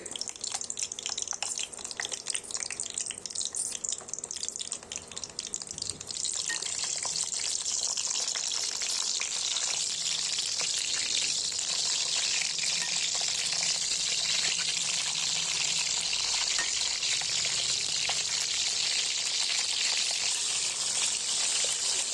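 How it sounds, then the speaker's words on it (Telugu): Capsicum pieces frying in a tablespoon of oil in a kadai, a loud, continuous hissing sizzle that stays steady and close throughout with no voices. "ఇంకో కడాయి పెట్టుకొని అందులో 1 టేబుల్ స్పూన్ ఆయిల్ వేసేసుకొని మనం కట్ చేసి పెట్టుకున్న క్యాప్సికమ్ అందులో వేసి అంతా బాగా దోరగా వేయించుకోవాలండి"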